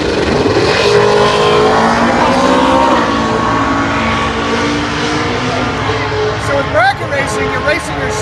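A drag racing car launches down a quarter-mile strip at a bracket racing event with a loud, sustained engine roar, steady and close, that dips and surges toward the end as another engine rises in the background.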